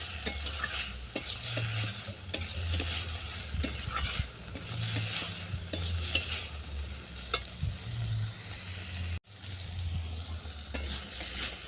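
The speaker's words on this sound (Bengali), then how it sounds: "আবার একটু কষিয়ে নিচ্ছি" Crab meat and cucumber with ginger being stir-fried in a pan: a continuous close sizzle with frequent sharp scrapes and clacks of a spatula against the metal, steady throughout with one brief cut near the end.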